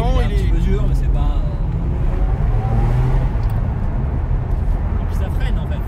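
A V12 sports car engine revs up loudly from inside the cabin, pitch climbing through the gears as a person talks over the roar.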